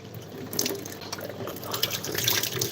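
Water running from a tap in a steady, close rush to flush things out, splashing and gurgling continuously with no voices over it.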